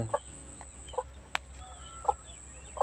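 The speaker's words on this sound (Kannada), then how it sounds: "ಕೋಳಿ ಮರಿ ಇಲ್ಲಿ ಬಂದೈತಲ್ಲ" Chicks give soft, short clucks in a loose, irregular series against a quiet background, with one sharp click partway through.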